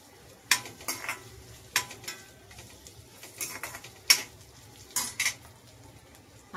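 Bell pepper stirred into hot soybean oil in a pan, a spoon scraping and clinking against the metal in uneven bursts over a soft, steady sizzle, close and without talk.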